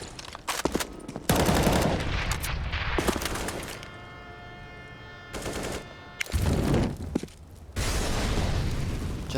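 Desert Eagle pistol fire in CS:GO on the Train map during a professional ESL One Cologne 2017 match: loud, sharp shot bursts in several separated clusters with short pauses between them, plus game ambience.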